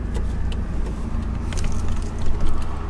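A Mazda Miata with 100,000 miles idles steadily right after starting up, a low, continuous engine rumble close by with a slight swell near the end.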